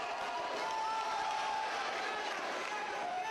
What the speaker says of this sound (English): you hear that crowd, that hometown crowd, if you will, that Navy crowd behind him